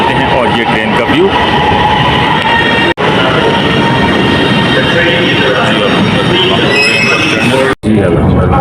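Riding aboard the Lahore Orange Line metro train, with a steady loud rumble of wheels and car noise throughout, faint squeal tones near the end, and talk mixed in over the ride.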